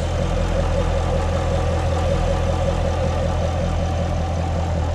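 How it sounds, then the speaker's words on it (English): A 2018 Chevrolet Camaro 2SS coupe, Hot Wheels 50th Anniversary Edition, idles close by with a steady, even low hum and deep rumble throughout, no rattles or knocks, no voices. "Engine just hums as it should, no rattling, knocking, or noises."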